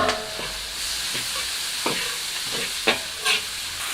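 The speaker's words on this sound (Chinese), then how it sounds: "翻炒出锅" Cured pork and Erjingtiao chilies are stir-fried in a wok over high heat, a steady sizzle broken by repeated scraping strokes of a spatula against the metal every half second or so.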